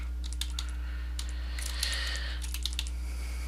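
A computer keyboard typed on in short bursts of light, close key clicks over a steady low electrical hum, no voices.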